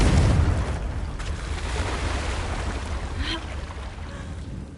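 A fiery Confringo blast spell cast in the game Hogwarts Legacy bursts as a loud, low boom at the start, then fades into a long rumbling decay with faint crackles.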